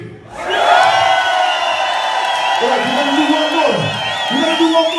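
A concert crowd in Prague cheers and shouts loudly at a live reggae show, a sustained roar of many voices with whoops rising above it for several seconds.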